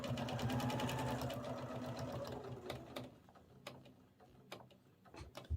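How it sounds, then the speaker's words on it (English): A sewing machine stitches binding onto a small art quilt, with a fast rapid rattle of stitching for about three seconds, then stops, followed by scattered clicks and taps, close and fairly quiet. "Needle down and sew it off at 90 degrees."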